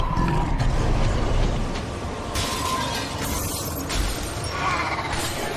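Glass shattering in The Wolf Among Us, a loud crash with breaking debris over a dense, roaring game soundscape, followed by sustained rumbling action noise.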